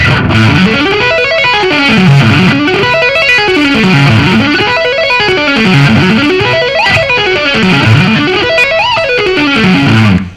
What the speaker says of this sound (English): try doing some hammer-ons and pull-offs in the top half of the arpeggio